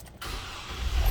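Starting a 2006 Hummer H3: a brief click, then the engine catches and settles into a steady, close idle rumble that grows slightly louder toward the end.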